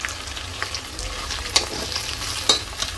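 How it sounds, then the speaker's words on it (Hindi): Asafoetida, whole red chillies, potato, cumin and fenugreek seeds crackling in hot oil as a tempering for kadhi, a close continuous sizzle broken by a couple of sharp spoon taps against the pan. "सिर्फ मैंने इसमें ऑयल डाला है, हींग, साबुत लाल मिर्च, आलू और जीरा और ये मेथी दाना"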